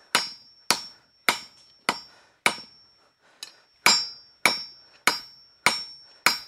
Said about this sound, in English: Just working over the anvil, just fuller it out, stretch out